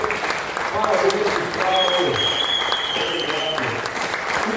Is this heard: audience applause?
yes